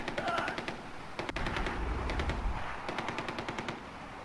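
Rapid machine-gun bursts crackle in a Far Cry 4 firefight, loud, close and repeated in stuttering volleys, with voices shouting faintly beneath.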